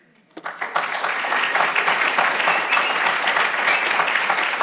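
An audience at a symposium applauds the introduction of keynote speaker Peter Singer, rising quickly from a few first claps into sustained, full applause from a large room that carries through to the end.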